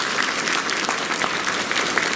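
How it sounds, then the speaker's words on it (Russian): A concert hall audience at a student philharmonic concert applauds in a dense, even burst of many hands, steady and fairly loud for the whole stretch. "Я думаю, что это достойно наших аплодисментов."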